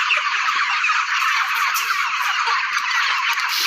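A crowded flock of chickens jostles around a feeder at feeding time, a dense continuous chorus of clucking and scratching heard close and fairly loud throughout.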